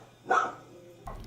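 A single dog bark at an animal shelter in Indiana, close and fairly loud, followed by a brief shorter yip or whimper near the end.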